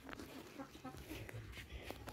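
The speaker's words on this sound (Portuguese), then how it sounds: "E as galinhas que a gente tem aqui, né?" Chickens cluck in short, scattered calls on a farm where young pigs are also kept, heard close amid background noise and a bit of faint talking.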